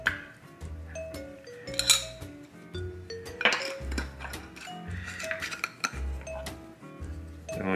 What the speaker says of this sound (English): And then it comes with these cool little lids. And they just pop on.